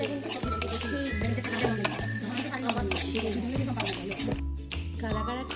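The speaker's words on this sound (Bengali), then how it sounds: "কাঁকড়া দিয়ে ভালোভাবে নেড়ে চেড়ে আলুর সঙ্গে মিশিয়ে নেব" Crab pieces and potatoes are stirred together in a pan, giving a steady run of scraping and clattering utensil-on-metal sounds with a soft patter beneath, close and fairly loud throughout.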